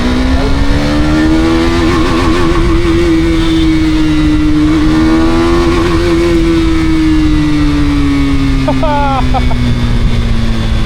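Steady engine drone of a motorcycle ridden on the roads of Bangalore, loud and close with a wavering pitch as the throttle rises and eases, accompanied by wind and road noise.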